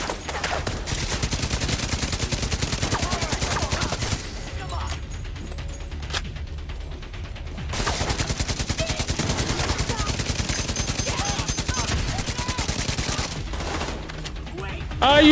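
Automatic gunfire from a weapon in The Division rattles in long, rapid bursts, loud and close, with a brief lull partway before the steady stream of shots resumes.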